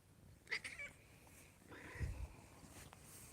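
A house cat in a home with many cats lets out a brief, thin meow, then a soft, low chirping call, both faint and close in an otherwise quiet room.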